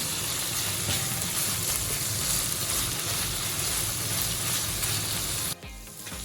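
Pancit guisado sizzles steadily in a hot pan as it is stirred, a loud, continuous frying hiss that cuts off briefly near the end before resuming.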